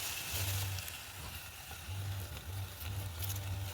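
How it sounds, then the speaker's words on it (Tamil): Pork pieces hit a hot clay pot over a village fire and sizzle with a steady, close hiss that swells and eases, with a low hum running underneath. "பன்னிக்கறி நண்பர்களே கொட்டிக்கலாம்."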